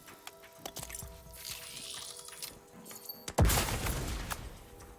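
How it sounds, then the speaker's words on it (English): A grenade detonates in The Outer Worlds 2, a sudden sharp blast followed by a crackling, rumbling decay over a busy backdrop of scattered clicks and metallic game noise. "Grenade away!"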